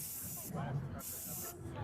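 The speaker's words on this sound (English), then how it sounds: "You can just spray it right over the top." Two short, faint hissing bursts from an aerosol spray go over the top of wet epoxy, with a brief pause between them.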